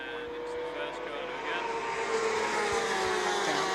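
A Formula 1000 single-seater racing at Brands Hatch: a high, sustained engine whine rises steadily in pitch as the car accelerates past, heard under a commentator's voice.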